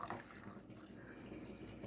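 A kitchen machine, just done with its cycle, keeps dripping into a black cup: a faint, steady trickle of liquid with no voices over it.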